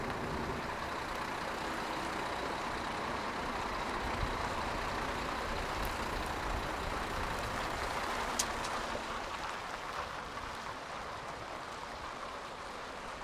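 A Denby Eco-link lorry manoeuvring slowly around a turning circle, a steady low engine rumble with faint road and wind noise, fairly distant and even throughout.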